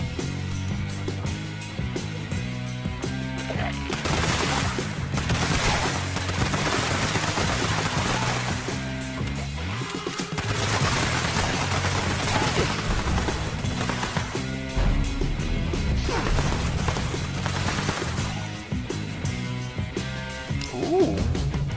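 A two-shot explosive weapon in Fallout 76 fires repeated bursts with crackling blasts, loud and dense, over a thick layer of game music and effects, pausing briefly between volleys.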